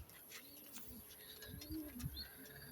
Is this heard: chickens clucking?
no